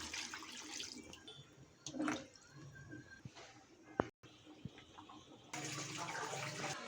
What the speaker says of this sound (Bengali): এবার আমি চিকেনের মধ্যে জল অ্যাড করে দিলাম